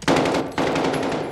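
Enemy gunfire in Call of Duty: Modern Warfare (2019) comes as loud, close automatic bursts, two rapid rattling volleys separated by a brief gap, with no talking.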